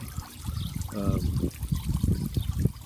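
Water trickles continuously through aquarium gravel from a siphon tube, a close, soft bubbling dribble with irregular little gurgles and no talking.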